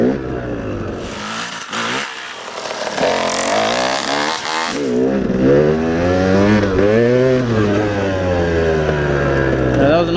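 A motorcycle engine revs hard and sustains a loud, close, wavering roar through a long wheelie, pitch rising and falling with the throttle.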